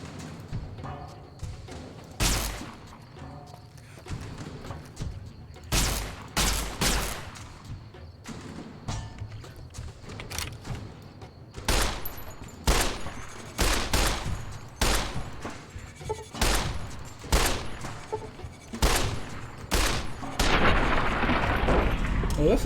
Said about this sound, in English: I took more shots there because, quite simply, the gecko has like armour on its everything but its face